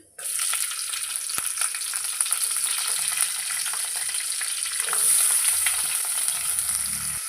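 Chopped onions and green chillies with cumin fry in oil for an egg curry, a bright continuous sizzle starting abruptly, with occasional stirring scrapes and a brief swell of hissing partway through.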